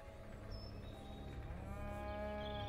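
Cow mooing in the video game Lost Lands 8, one long drawn-out low moo over faint ambient game music, loud and close with no talking.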